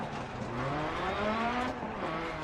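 A rear-wheel-drive Group B rally car engine in Dirt Rally, on a Greece stage, revs up and down in neutral, its pitch climbing and falling in a loud, close drone.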